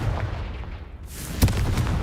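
A Confringo explosive spell from Hogwarts Legacy goes off as a single sharp, booming blast partway through, rising out of a steady, rumbling game backdrop.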